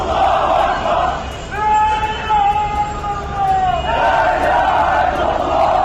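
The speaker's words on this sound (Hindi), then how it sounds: "लोग फिलिस्तीन का झंडा लेकर नारे लगाने" Protest crowd chanting slogans in the streets of Jenin while carrying Palestinian flags, a dense continuous roar of many voices with a rising, wailing chant in the middle, loud and close throughout.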